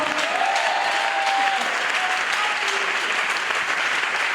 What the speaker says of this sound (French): Est-ce que je peux entendre des acclamations?